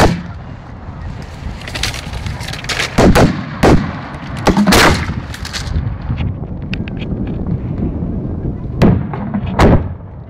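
Fireworks explode during a 2011 public display in Pérols, France, a series of sharp, loud booms and crackles coming in irregular clusters over a continuous background murmur.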